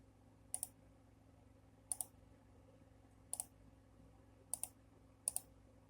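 Computer mouse clicks, five separate pairs of sharp double clicks spaced about a second apart, close and crisp over a quiet background hum.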